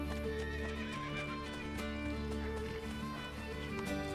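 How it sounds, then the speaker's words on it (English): Horse in Assassin's Creed Brotherhood neighing and whinnying over steady clip-clop galloping hooves, loud and continuous amid game music, with no talk. "If a real horse is going berserk like that, you shouldn't try doing that."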